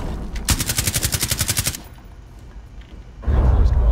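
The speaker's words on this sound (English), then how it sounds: "Okay, Loki, I'm gonna make a murder hole and fire down it." Rapid automatic gunfire in Rainbow Six Siege, a loud close burst of about a dozen evenly spaced shots lasting just over a second, followed by a quiet gap and then a heavy rumbling blast.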